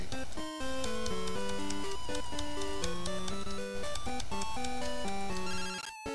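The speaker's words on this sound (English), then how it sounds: "If you walk enough, you'll get a phone call." An incoming phone call ringtone from the Pokemon Crystal video game plays as a bright, chiptune melody of repeating electronic notes, steady and alone for about six seconds with a brief pause near the end.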